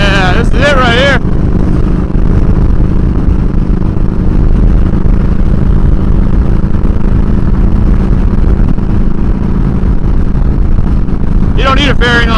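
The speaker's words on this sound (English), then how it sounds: "emerged on the highway, 88 Twin Cam, so it's not exactly a race bike, but it'll still scoot" A Harley-Davidson Fat Boy in Road King style with an 88 Twin Cam engine cruises along a highway, its steady loud engine drone blended with heavy wind rush, with a voice briefly heard at the start and end.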